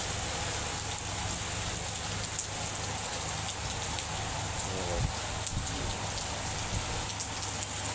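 Steady rain pours down, drumming continuously on a hard surface and into a full drum, with a dense hiss of raindrops and no voices.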